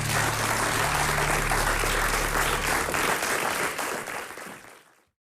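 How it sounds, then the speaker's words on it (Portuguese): A large audience applauds a journalist, a full, steady wash of clapping that holds strongly for several seconds and then dies away quickly into silence. "Um grande aplauso para a Ana."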